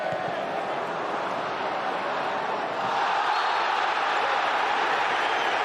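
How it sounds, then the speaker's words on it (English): Dense, steady roar from a packed football stadium crowd at an Arsenal versus Manchester United FA Cup match, a continuous wash of voices that swells slightly louder partway through. "the crowd now are very much roaring for the referee to give Ronaldo a bit more protection"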